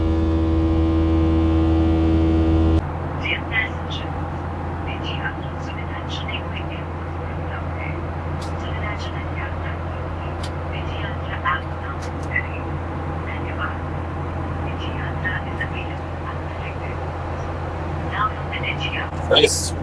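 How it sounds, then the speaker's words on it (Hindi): A SpiceJet propeller airliner's engine runs at full power in flight over Delhi, giving a steady, loud droning roar throughout, with a tonal hum at the start that gives way to broadband cabin noise. "इंजन फुल पावर पे चल रहा है"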